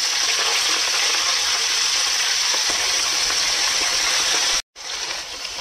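Sliced, washed cabbage tipped into hot oil for a vegetarian curry, a loud steady sizzle and hiss of frying that cuts off briefly near the end, then resumes more quietly.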